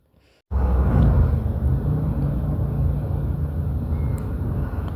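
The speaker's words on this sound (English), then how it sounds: "Okay, I gotta wait for these fucking cars." Traffic passing outside, a loud steady broadband rumble that begins abruptly after a brief quiet moment and holds for several seconds, like cars rolling close by on a street.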